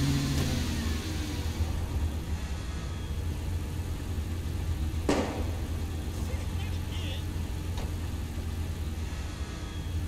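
A car engine runs steadily in Saints Row IV while driving, a low mid-pitched drone that holds at a constant level for the whole stretch, with a brief sharp click near the middle.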